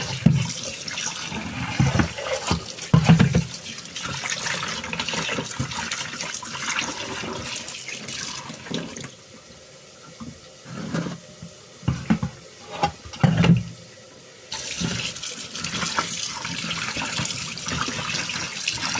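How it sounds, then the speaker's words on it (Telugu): Raw chicken being washed in water in a home kitchen, with splashing, swishing and running-water sounds rising and falling in bursts, loud at first, then quieter with scattered sloshes, no talking. "ఇప్పుడు చికెన్ బాగా కడుక్కుందాం"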